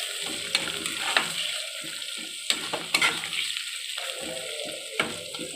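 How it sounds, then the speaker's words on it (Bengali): Tomatoes get stirred into onions frying in a pan for Bengali chicken kosha, a steady close sizzle with scraping spatula knocks and stirring clatter. "এবার এর মধ্যে দিয়ে দেবো টমেটো। টমেটো দিয়ে 2-3 বার নেড়ে নেব।"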